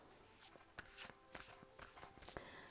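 Tarot cards shuffled by hand, giving soft, quiet papery riffles and slaps in irregular bursts, with no talking.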